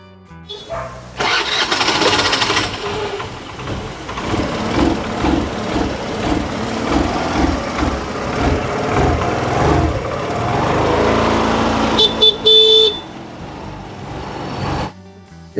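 A single-owner 2016 TVS Victor second-hand scooter self-starts with a brief whirring crank, then its engine catches and runs with a steady, fairly loud idle that fades out near the end.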